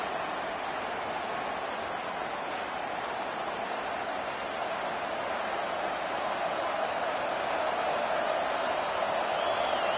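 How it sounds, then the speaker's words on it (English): Stadium crowd in a USC college football video game, a dense, continuous roar of cheering that stays loud and steady throughout, sounding distant and wide. "This crowd, full throat, splitting the eardrums"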